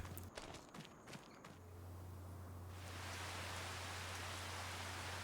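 Steady rain in Farming Simulator, a dense hissing wash that swells in after a few scattered taps and thuds and then holds evenly, with no talk over it.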